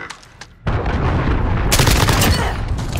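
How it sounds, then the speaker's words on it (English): A cruise missile launches in a shooter game: after a quiet moment, a sudden loud roaring blast erupts and holds as a sustained rushing rumble, with a second surge of noise partway through. "Allied cruise missile away"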